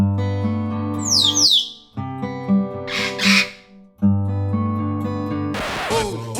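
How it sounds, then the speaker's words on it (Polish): Parrots squawk in harsh, loud bursts over a steady tonal hum, with short chirpy calls early and two strong raucous outbursts later on. "A teraz zobaczycie sobie papugi."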